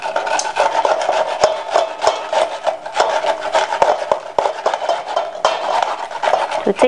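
Carrots scraped on a small hand grater, a quick rhythmic rasping of strokes back and forth, close and fairly loud, with no talking.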